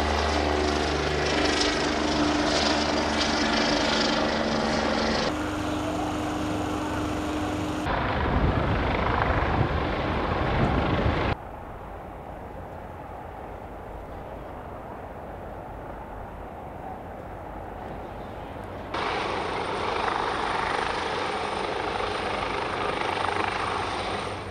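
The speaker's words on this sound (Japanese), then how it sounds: "横浜市消防局のヘリコプター、ハマチドリが出動してきました。" A Yokohama fire department rescue helicopter's steady rotor and engine roar during a disaster drill, loud and continuous throughout, shifting in tone and intensity as it moves, with no voices.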